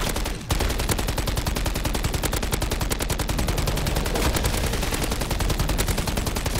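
Dense, continuous rapid-fire gunfire in MW3 Zombies as a player shoots at the floor, a steady loud stream of overlapping shots running the whole time after a brief opening gap.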